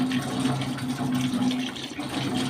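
Tap water runs steadily from a faucet at close range while someone washes their face at a sink, a continuous splashing hiss with no voices.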